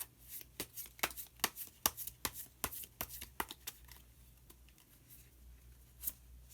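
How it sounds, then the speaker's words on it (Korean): Tarot cards shuffled by hand in a quiet room, a quick run of crisp riffling snaps and slaps that thins into a few scattered flicks, ending with one last card drawn. "그럼 마지막으로 마법사 카드를 한 장 더 뽑아보도록 하겠습니다"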